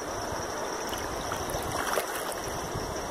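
The Riacho do Tigre creek in Solonópole, Ceará, flowing strongly after rain, with a continuous close rushing of water and no voices.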